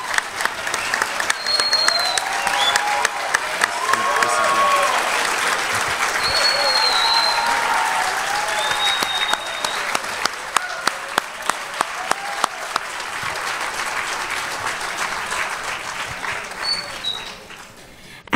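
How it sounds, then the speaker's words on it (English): Sustained audience applause for college communication award winners fills the room, a dense steady clatter of many hands lasting throughout, with faint background voices and occasional whoops rising above it before it tapers at the end. "let's recognize them for all their accomplishments with a huge round of applause"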